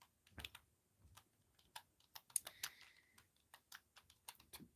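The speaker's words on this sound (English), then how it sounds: "I hate this keyboard." Typing on a computer keyboard with a faulty space bar, rendered as a quick, irregular run of close, crisp key clicks in an otherwise quiet room.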